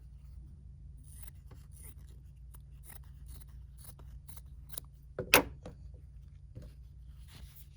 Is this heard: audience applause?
no